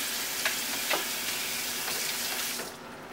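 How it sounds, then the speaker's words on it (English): Pasta water pours through a strainer into a sink as a steady, close rushing splash that tapers off near the end. "Pour it in there and over the sink and let the, you know, the liquid come down through the sink."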